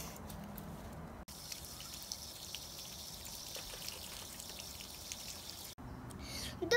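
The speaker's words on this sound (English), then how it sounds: "Now I am going to fill up the bottle with water using my hose." Water from a garden hose filling a plastic bottle: a continuous soft hissing rush with faint dripping and trickling, steady and fairly quiet, briefly cut off twice, with no voice over it.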